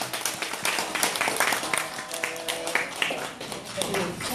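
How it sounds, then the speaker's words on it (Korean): A church congregation claps for a child's first birthday party, a dense patter of hands running the whole time, mixed with voices and tonal background sound. "세영이에게 축하한다고 우리 박수 한번 합시다"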